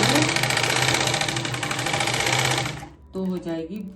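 A sewing machine runs steadily stitching the main fabric of a full-flared, floor-length umbrella-cut Kashmiri garment, a dense continuous whir for about three seconds before stopping abruptly, followed by a voice.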